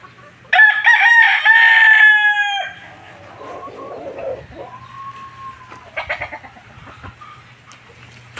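A Sweater gamefowl rooster at a small poultry farm gives one loud close crow, followed by softer clucks and chirps from nearby birds.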